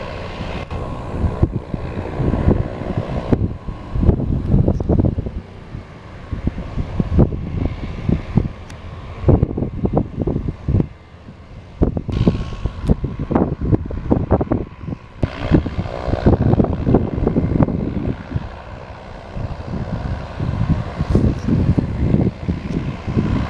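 A blimp airship drones overhead above a lake, its engine hum low and pulsing, rising and fading over about twenty seconds with some wind buffeting the microphone.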